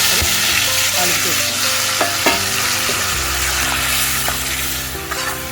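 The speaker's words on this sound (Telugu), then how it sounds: "ఇప్పుడు తాలింపు గింజలు అయితే ఎగుతున్నాయి కరివేపాకు కూడా ఇస్తున్నా" Tempering seeds splutter and fry in hot oil with curry leaves, a dense continuous sizzle peppered with sharp crackling pops, loud and close throughout with no talking.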